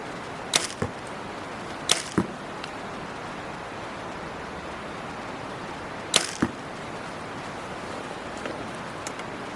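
Arrows from a hunting bow are shot outdoors on a rainy day, each release a sharp snap followed by a quick thud of the hit, in three spaced pairs over a steady wash of rain and wind noise.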